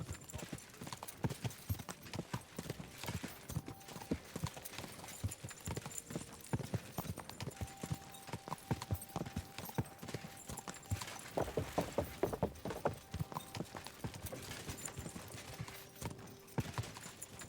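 Horse hooves clip-clop in the medieval game Kingdom Come: Deliverance 2, a steady trotting rhythm that keeps going throughout, fairly faint, with a brief whinny and light background game sounds.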